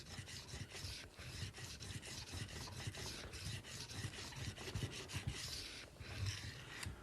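A knife is sharpened on a sharpening plate, giving a rhythmic back-and-forth rasping scrape. The strokes are repeated and fairly quiet, and no voice is heard.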